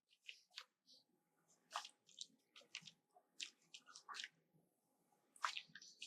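A paintbrush pushes water around on watercolor paper, giving soft, close, wet squishing and dabbing strokes in an uneven rhythm with brief quiet gaps.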